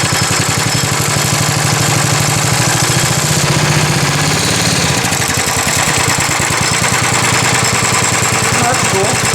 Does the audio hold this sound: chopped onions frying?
no